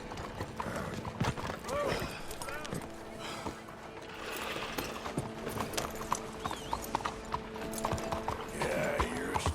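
Horse hooves in the video game Red Dead Redemption 2, a steady clip-clop of a ridden horse under ambient game sound, with a voice talking over it.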